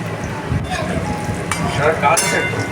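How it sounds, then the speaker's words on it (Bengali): Chicken pakoras frying in oil over low heat give a soft continuous sizzle with light bubbling, while a person talks over it. "আজকে তো এই যে আবার এইদিকে পকোড়া হচ্ছে চিকেন পকোড়া"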